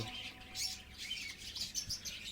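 Pet budgerigars chirping indoors, a scatter of quick high tweets and chatter coming in short bursts, fairly faint and without talk.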